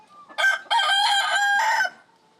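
A young rooster (stag) crows once loudly and close, a two-part call of about a second and a half with a short opening note, heard alone with no talk.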